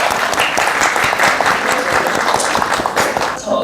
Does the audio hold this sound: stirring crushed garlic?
no